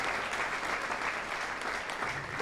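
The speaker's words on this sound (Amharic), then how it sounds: "አጨብጭቡላቸው። Clap for them." A church congregation claps for first-time visitors: dense, steady applause from a large crowd, filling the room without a break.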